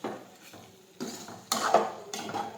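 A spoon scrapes and clinks against a pan while okra curry is mixed with powdered sugar, giving four separate close stirring strokes with quiet pauses between them.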